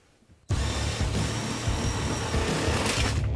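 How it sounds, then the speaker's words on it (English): Power drill boring a hole into a table for a LEGO hidden-storage build, starting abruptly after a brief quiet moment and then whirring loudly and steadily until the end, with no talk over it. "First we drill a hole."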